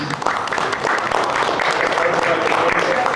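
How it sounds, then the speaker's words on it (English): An audience at an IE Mastermind meeting applauds, steady dense clapping from a room of people lasting throughout, fairly loud. "just give a round of applause to the IE Mastermind member, Denise."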